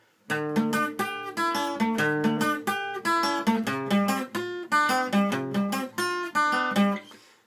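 A clean electric guitar plays a repeating riff of plucked notes in steady rhythm, the pattern cycling several times up close.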